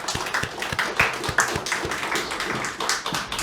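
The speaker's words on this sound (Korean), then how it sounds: "박수로 환영해 주십시오." A congregation claps together in a church during a Christmas Sunday service, a brisk, fairly close burst of hand claps with uneven rhythm and no voices.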